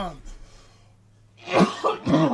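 After a quiet stretch, a person coughs with a couple of harsh, raspy bursts close by.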